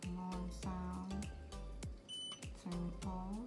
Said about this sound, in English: Alarm sound.